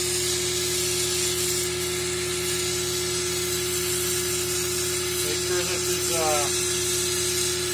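A vacuum pump for a vacuum casting accessory runs with a steady, close electric hum and drone, while a person's voice is heard briefly near the end.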